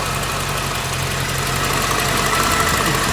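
Steady idle of a 1988 Chevrolet Corvette engine that has had a stuck fail-safe thermostat replaced, a continuous close rumble with a faint knocking pulse and no voices.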